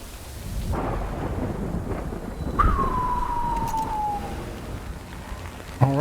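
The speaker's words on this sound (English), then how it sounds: "Good thing it was raining." Steady rain falls in the Death Stranding video game while thunder cracks twice, with a second louder close clap followed by a long rumble and a faint tonal whine, and no talking.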